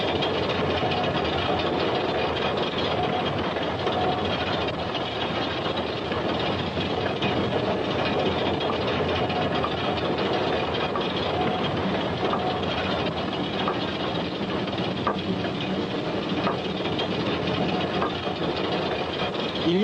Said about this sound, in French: les locomotives de la Madeira Mamore ne consomment pas d'autre combustible que celui offert par la forêt